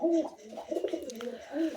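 Pet pigeons coo close by in soft, throaty rolling phrases that rise and fall, with a brief rustle partway through.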